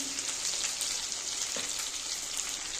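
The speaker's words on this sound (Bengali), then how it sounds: "তেলটা গরম হয়ে গেছে, আমি সর্ষে আর কাঁচা লঙ্কা বাটা, লবণ, হলুদ গুঁড়ো" Mustard and green chili paste with salt and turmeric sizzles in hot oil for a bhola fish curry, making a constant, close, hissing crackle with a few soft pops, no talk.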